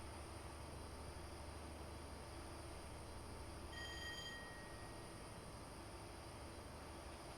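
A game-simulated train runs at speed along the East Coast Main Line, giving a steady, dense rolling rumble with a brief high whine partway through.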